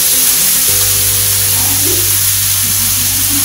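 Cubes of beet sizzle loudly and steadily in oil in a pan for a healthy home-cooked dish, a dense continuous hiss with a low hum underneath.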